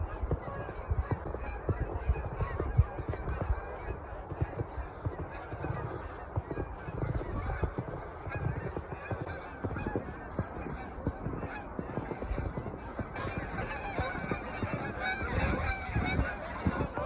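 A large flock of geese honking continuously, a dense chorus of overlapping calls at a moderate distance with no pauses.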